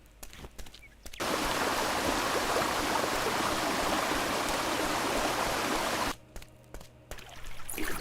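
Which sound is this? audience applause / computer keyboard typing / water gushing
water gushing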